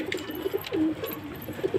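Pigeons on a rooftop coo softly and repeatedly, close by, in short throaty bursts with brief pauses and no talking over them.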